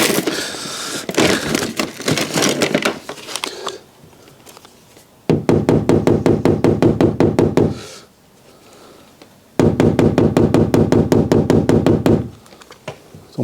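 Rapid bursts of hammer taps on a Fiat 500 body panel while a dent is worked out, three runs of dense, evenly spaced metallic knocks separated by brief pauses, close and loud.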